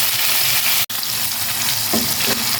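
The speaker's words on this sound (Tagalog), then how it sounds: "nilagay na natin yung gulay niya. So, haluin lang natin siya." Vegetables sauté with light soy sauce, pepper and oyster sauce in a hot pan, a loud, close, steady sizzle broken by a brief cut, with scraping stir strokes near the end.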